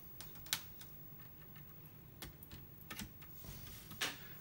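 A wireless keyboard connected to an Atari 8-bit computer being typed on, with faint, irregular, scattered keystroke clicks in a quiet room.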